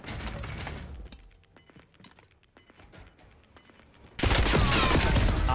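Bursts of rapid automatic gunfire in Call of Duty Warzone, scattered shots and clatter building to a loud, sustained close volley at the end.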